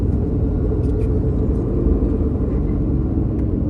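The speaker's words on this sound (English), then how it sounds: "Still idling really high because choke hasn't kicked off yet" A 1984 Chevrolet C30 square-body crew cab dually truck idles high on choke, a steady deep rumbling drone with a few faint clicks, close by and without talk.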